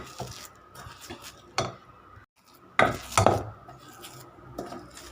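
Cooked rice being mashed by hand for curd rice makes close, quiet squishing and scraping strokes against a vessel, coming in irregular bursts separated by brief pauses.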